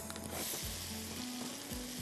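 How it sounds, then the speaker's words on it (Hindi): Onions and green chilies hit hot oil with ginger and garlic for chicken manchow soup, giving a loud, steady sizzle with a few stirring scrapes, close and alone without talk. "पहले अनियन डाल रही हूँ"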